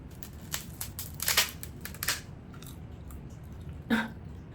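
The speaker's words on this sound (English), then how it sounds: "It was so hard to break, so I don't even know if I can actually bite a piece off." Hard, brittle baked fish maw is bitten and snapped close to the mouth, giving a few dry crunching cracks with chewing sounds and a sharp break near the end.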